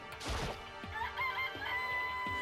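A rooster crows in the Danganronpa video game, a loud drawn-out cock-a-doodle-doo followed by a few sharp clucks and knocks, with game sounds faintly underneath.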